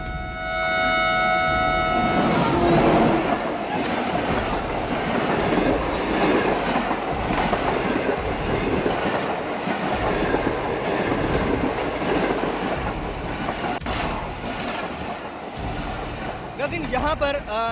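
A train rolls past close by on a railway track near homes, a loud continuous rumble with clattering wheel sounds and a brief horn-like tone at the start, with metallic clicks near the end.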